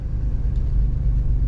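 Steady low exhaust rumble from a car with a freshly repaired exhaust, heard continuously and fairly close, with no talking.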